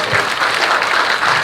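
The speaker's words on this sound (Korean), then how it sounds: "그럼 큰 박수 부탁드립니다" An audience at a political speech in Busan gives a loud, dense burst of applause, steady clapping close by with no talk over it.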